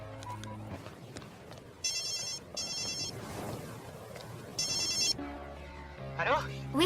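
Outgoing phone call ringback, with several short electronic ring bursts repeating at intervals, faint and partly under background talk and indoor noise.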